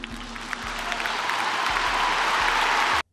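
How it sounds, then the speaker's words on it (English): A crowd breaks into sustained applause, a dense wash of clapping that holds steady for about three seconds before cutting off abruptly. "The crowd applauded."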